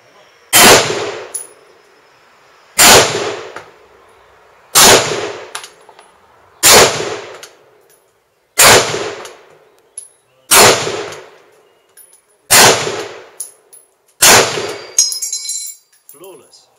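Rifle firing a clip of MEN cartridges, loud sharp reports with metallic ringing spaced roughly every two seconds, eight shots in steady succession followed by a faint metallic clatter.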